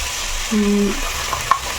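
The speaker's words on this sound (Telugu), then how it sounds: "అల్లం వేస్తున్నాను ఒక 2 స్పూన్లు." Ginger paste frying in a pan, two spoonfuls, a soft steady sizzle with a brief tonal hum in the middle and a couple of small clicks near the end.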